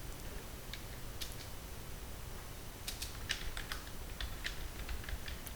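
Quiet, scattered clicks of a computer keyboard as someone types a line of C code, in short irregular bursts over a low steady room hiss, with no voices.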